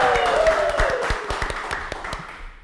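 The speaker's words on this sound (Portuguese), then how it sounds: "Palmas pra avó Lu!" A small podcast-studio audience claps for a guest, Vó Lu, with a scattered burst of individual hand claps that thins out and fades over a couple of seconds.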